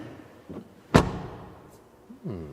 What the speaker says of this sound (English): what's the door closing sound like in the rear?